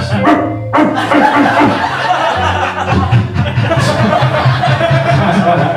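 A man imitates a dog, giving a few loud, close woofs and barks that break into chuckling and laughter near the start, then a sustained growly vocal sound.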